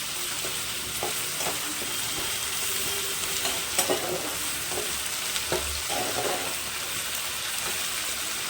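Spices for papaya and moong dal ghonto sauté in a pan with a little water, giving a continuous close sizzle broken by the scrape and clatter of stirring, with no one talking.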